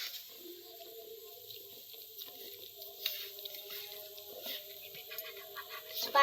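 Water pours into a cooking pot during preparation of a tarakari curry to go with puri, making a steady running, splashing trickle with small bubbling spurts. It sounds close and moderately loud, with no talk.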